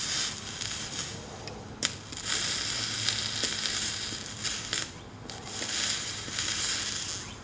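Continuous crackling sizzle with faint pops as a soldering iron meets flux on stained glass, close and fairly quiet, swelling and easing in short waves without any talking.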